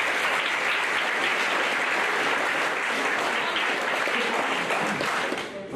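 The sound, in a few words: banquet audience applause for booster officers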